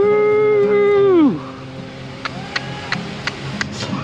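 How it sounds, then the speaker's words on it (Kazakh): A speedboat at Dubai Marina holds a loud steady engine tone that drops sharply in pitch partway through. Faint scattered ticks and water noise follow, with no voices. "Осында бір катер бар, акула сияқты."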